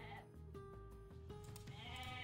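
A goat bleats in the Age of Mythology Retold strategy game, several short wavering calls over a steady game soundscape, faint and distant in the mix with no speech.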